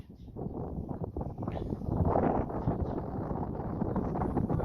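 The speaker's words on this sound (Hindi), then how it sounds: "वो यार बहुत ठंडी हवा चल रही है" Cold wind blows outdoors near a hillside stockyard, buffeting the microphone in uneven gusts that swell and ease, moderately loud and with no talk over it.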